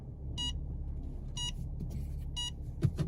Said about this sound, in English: And you see, immediately beep, because there is an obstacle there.